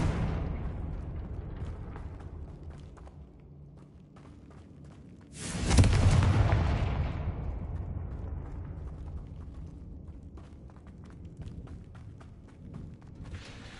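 Confringo blasting spell detonating in the Hogwarts Legacy video game, a sudden loud burst midway that rumbles and decays slowly over several seconds, following quieter mechanical creaking and ambient game sounds.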